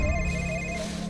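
A telephone ringing in a Hindi horror story, a sustained electronic ring with a wavering tone, close and clear, heard alone for about a second.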